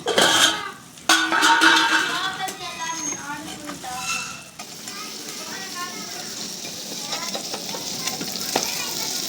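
Beaten eggs frying as an omelette in a pan, a loud close sizzle with a few utensil knocks, under a person talking.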